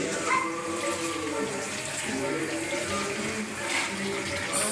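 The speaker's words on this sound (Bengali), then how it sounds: "এই যে শাপলাগুলো ধুয়ে নিতেছি।" Water lilies are rinsed under a running tap in a home kitchen, a steady, soft splashing stream of water with faint background noise around it.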